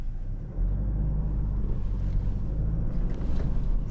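Steady low rumble of a 2024 Toyota HiLux GR Sport crawling off-road through a ditch, engine and drivetrain noise mixed with wind buffeting, continuous and fairly loud with no talk.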